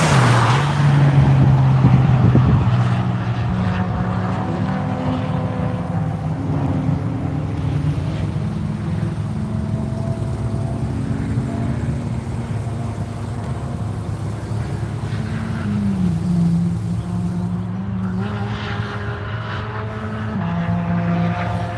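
Race car lapping NCM Motorsports Park during a Tire Rack One Lap of America session, a steady engine drone with pitch rising and falling as it passes, continuous and moderately loud throughout with no talk.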